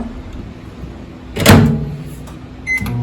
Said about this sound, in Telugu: వాటిని అంతటిని ఇక్కడ ఉన్న మైక్రోవేవ్లో పెడతాం